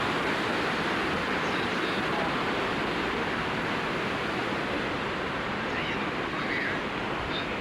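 Steady broadband rush of flowing water at the source of the Ganges river, a continuous dense roar without breaks, moderately loud and close.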